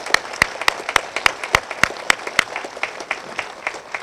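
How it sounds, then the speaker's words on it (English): A small audience applauds at a public library ribbon cutting, sharp individual claps ringing out close by in an uneven rhythm that gradually thins toward the end. "a round of applause for Lauren Stara and Andrea Bono Bunker"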